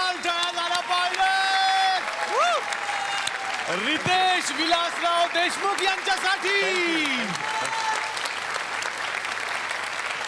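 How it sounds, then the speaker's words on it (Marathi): A studio audience on a Marathi comedy show breaks into sustained applause and cheering, loud and continuous, while a host speaks over the clapping. "जोरदार टाळ्या झाला पाहिजे"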